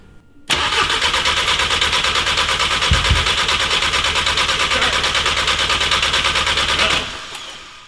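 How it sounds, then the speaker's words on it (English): A Volkswagen Jetta MK3 engine cranks loudly for about six seconds with a fast, steady whirring rhythm but never catches, then the starter cuts off abruptly, leaving a brief quieter tail. "So our car wouldn't start again."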